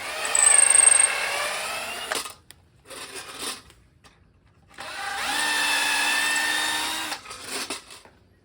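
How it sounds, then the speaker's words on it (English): A power drill driving screws into a bracket glued onto an entry door frame during a DIY build, heard as two sustained whirring runs with shorter bursts between them, close and loud with no talk. "Glue it in, and then I'm going to screw it in."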